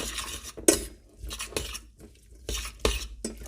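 Thai pork salad (nam tok moo) with fish sauce being stirred and tossed, with a utensil clinking against the bowl in several separate close bursts amid quieter pauses.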